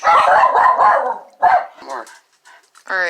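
Indoor dogs bark in a few sharp bursts near the end, breaking in after a person talks while cooking in a kitchen.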